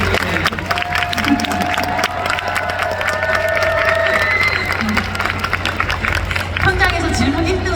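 An audience at a Busan International Film Festival open talk for the film Broker claps and cheers, a dense, sustained wash of applause with a clear voice speaking over it.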